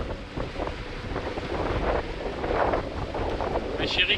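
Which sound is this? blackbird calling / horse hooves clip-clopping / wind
wind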